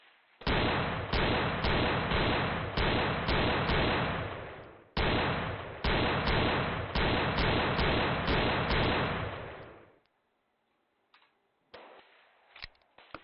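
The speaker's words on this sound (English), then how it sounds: "This one is Gun Club VR, because who doesn't like shooting guns in VR?" Rapid strings of loud, close gunshots fired in the VR shooting game Gun Club VR, in two long bursts separated by a short gap, then near-silence with a few scattered clicks and clunks toward the end.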